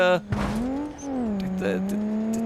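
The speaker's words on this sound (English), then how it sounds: "It really is a noisy turbo on this." A modified car in BeamNG Drive with a noisy turbo gives a sustained engine drone that rises and settles in pitch, topped by a turbo whistle and a brief burst of noise, heard close and loud.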